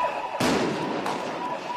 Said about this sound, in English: The sound of gunfire echoing through the streets of Nairobi.